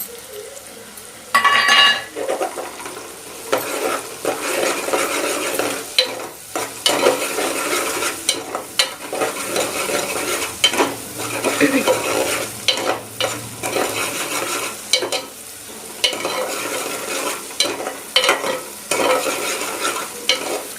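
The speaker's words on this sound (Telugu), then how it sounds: "అండ్ ఈ మిరియాలు, సోంపు, కసూరి మెంతి ఇవి కూడా వేసేయండి. బాగా వేగనివ్వండి" Black pepper, fennel and kasuri methi fry in a pan for egg curry, a steady sizzle broken by repeated spoon scrapes and clinks against the pot, close and alone.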